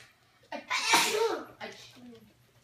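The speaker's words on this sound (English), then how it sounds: "Achoo." A single loud sneeze erupts close by indoors at a dog foster home, followed by a short breathy tail and some faint voice sounds.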